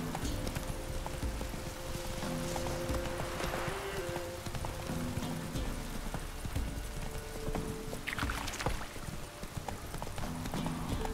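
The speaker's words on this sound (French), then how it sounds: "Jolis chevaux." Several horses clip-clop steadily on hard ground, hoofbeats close and continuous, with a brief whinny partway through and faint background ambience.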